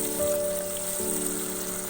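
Cumin and tomatoes frying in oil in a pan, a soft, steady sizzle with a faint hiss, fairly quiet and unbroken, with no talk over it.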